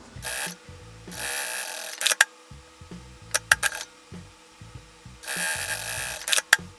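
A sewing machine stitches fabric binding along the edge of a large zip pouch, running in short bursts of rapid mechanical whirring broken by pauses and sharp clicks, close and alone.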